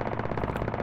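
Sustained rapid automatic fire from an anti-aircraft gun in the military shooter Squad, a steady loud burst of evenly spaced shots with no pauses.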